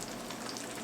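Eggs frying on low heat on an electric stove give a steady, even sizzle and crackle, close and continuous with no talking.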